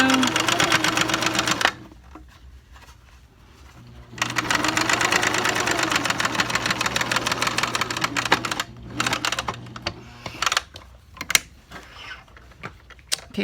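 A sewing machine stitches handmade fabric face masks in fast rhythmic clattering runs, pausing briefly and then resuming, finishing in shorter stop-start bursts of stitching.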